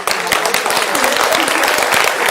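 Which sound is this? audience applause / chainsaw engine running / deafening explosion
audience applause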